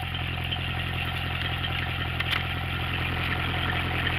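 A Ford Ranchero engine with its timing set too slow idles in drive, a steady, even rumble through the exhaust pipes with a faint ticking clatter and no talking.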